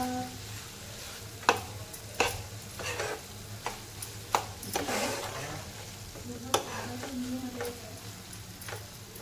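Tomato bhaji cooking in a pan on a gas stove, with peanut powder and jaggery added, gives a soft steady sizzle broken by several sharp scraping stirs of the spoon, fairly quiet and close, with no talk.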